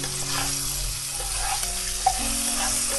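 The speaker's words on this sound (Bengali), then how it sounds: "এইভাবে 5 মিনিট সময় ধরে একটু ভেজে নিচ্ছি" Potato and pointed gourd pieces fry with salt and turmeric in a pan, making a steady close sizzle with low background hum and an occasional light clink of a utensil.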